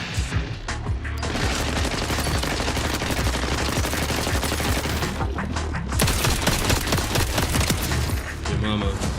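Gun turrets firing in the Borderlands video game, dense continuous rapid gunfire and booms filling nearly the whole stretch, loud and relentless with only brief dips.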